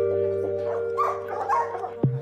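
Dogs at an animal collection centre in Huesca give short yips and whimpers over a steady background hum, ending in one sharper bark near the end.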